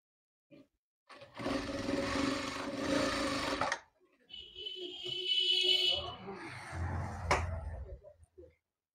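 A sewing machine runs in two bursts while stitching fabric for bell-bottom trousers, with a rapid mechanical whirr up close, a brief pause, then further handling clatter and a low thump.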